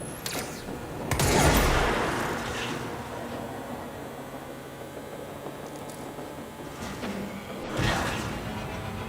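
Sniper gunfire in the video game Control: a loud sharp shot with a long rumbling tail, quieter ambience, then a second fainter shot near the end.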